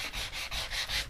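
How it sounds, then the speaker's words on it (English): Rhythmic sanding strokes on painted wood for a radiator cover, about six back-and-forth passes, close and steady with a raspy, hissing scrape. "I'll get it sanded smooth"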